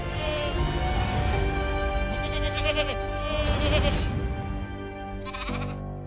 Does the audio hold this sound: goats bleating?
yes